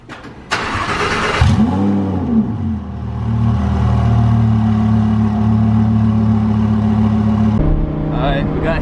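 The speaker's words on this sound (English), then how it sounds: "First twin turbo cold start." A twin-turbo Lamborghini Huracan with about 1,000 horsepower cold-starts nearby: a cranking bark is followed by a loud rising flare, then it settles into a heavy, steady high idle that drops slightly near the end, with voices briefly over the start.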